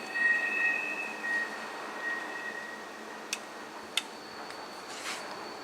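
A distant freight train carrying containers rolls by, its wheels giving off thin, high squeals and a couple of sharp metallic clicks over a low rumble.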